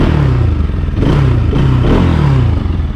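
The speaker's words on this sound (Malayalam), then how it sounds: "സൗണ്ട് ഇതാണ് കേട്ടോ, എക്സോസ്റ്റ് സൗണ്ട്" A Bajaj RS200 motorcycle's exhaust drones steadily near the microphone, a thick low-pitched engine note with slight rises in revs, and no voices over it.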